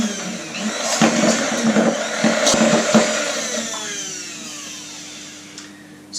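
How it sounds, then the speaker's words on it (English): A Bamix stick blender whirs steadily as it whisks wet cupcake batter ingredients in a jug, a loud close motor hum with faint clicks, gradually easing toward the end. "going to whisk them up with my Bamix mixer. Stick blender."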